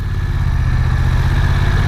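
A 2020 BMW F900XR motorcycle engine runs steadily at low speed in slow traffic, a loud close throbbing drone with a fast regular pulse, no voices.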